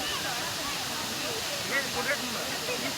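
Jhari Falls in Chikmagaluru pours as a continuous broadband rush of water, with a few faint voices and brief sounds rising above it near the end.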